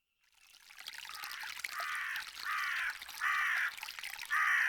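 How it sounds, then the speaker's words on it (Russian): Cawing birds in an Agatha Christie mystery video game, a series of four or five rhythmic harsh caws over a steady hissing background, moderately loud and without speech. "Голуби каркают. Еще что-то каркает."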